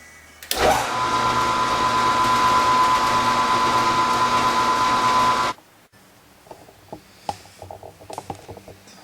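A power saw cuts through blocks for a homemade lead wire mold, starting abruptly with a loud, steady whine held for about five seconds before stopping, followed by scattered clicks and handling knocks.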